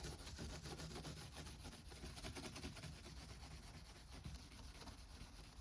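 A Scotch-Brite pad scrubs the solder lines of a stained glass piece with patina, producing a continuous close, quiet rasping rub in quick even strokes without pause.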